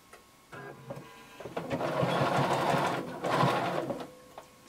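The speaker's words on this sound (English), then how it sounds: "we're going to sew each side" A sewing machine runs in two bursts while stitching the side seams of a workout top, a steady mechanical whir starting and stopping with short pauses and quiet handling between.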